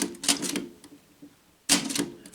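Typing on an Imperial typewriter: a quick cluster of crisp mechanical key strikes, a pause, then another sharp burst of keys striking, close and clear in a quiet room.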